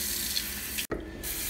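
Water from a kitchen faucet runs steadily into a sink being filled with dishwater, a continuous close hiss that breaks off briefly partway through and then resumes.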